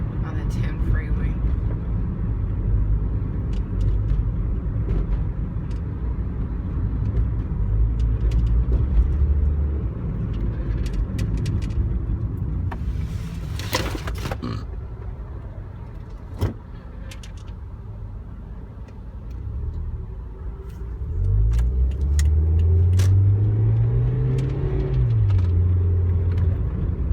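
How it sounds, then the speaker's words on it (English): Car interior on the 10 freeway during a morning commute, with a steady loud road rumble and engine drone that holds throughout, a passing whoosh midway, and a rising and falling engine tone near the end. "on my way in to work on the 10 freeway"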